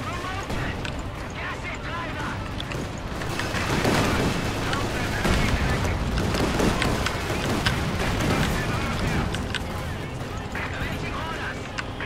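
Artillery and gunfire rumble through a battle in Company of Heroes 2, a dense, continuous wash of booms and shots that swells around the middle, with voices talking over it.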